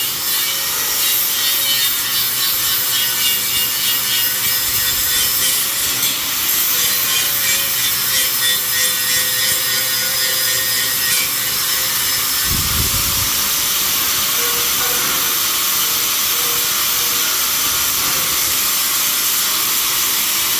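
A flap wheel on an angle grinder grinds welded steel on a Toyota 4Runner bumper build, a loud, continuous, harsh abrasive whine that wavers slightly in pitch under load, running without a break for about twenty seconds.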